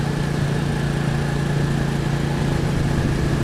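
A small motorbike engine runs with a constant, even buzzing drone, steady and close, with no talking.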